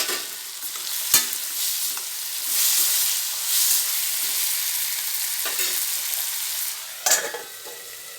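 Tomatoes and curry leaves sauté in a pan for sambar, giving a steady close sizzle with scraping stirs and occasional sharp utensil clinks, no voices.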